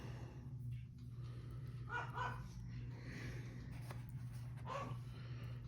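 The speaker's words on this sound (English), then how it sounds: "So he's probably barking at a kitten now." A dog barks a few times in the background, muffled and moderately distant, with short yips over a steady low hum indoors.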